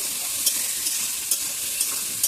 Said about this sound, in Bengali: এবার আলুটা হলুদ আর অল্প লবণ দিয়ে ভেজে নেব